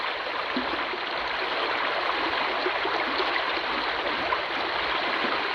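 Water rushing steadily through a gold sluice as a bucket of concentrates is washed down it outdoors, a continuous broadband wash that holds constant from start to finish with no voices.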